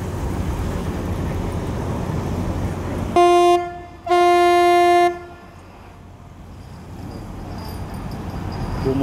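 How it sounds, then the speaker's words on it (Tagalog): A RoRo ferry's loud, deep horn blasts twice at Dangay Port in Roxas at night, a short blast then a longer one, over a steady background rumble of engines and wind. "Bumusina na."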